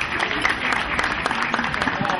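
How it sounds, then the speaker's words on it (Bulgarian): Audience applause welcoming the hosts at a national backgammon tournament evening, a short burst of dense clapping heard close and steady, with voices mixed in. "Аплодисменти!"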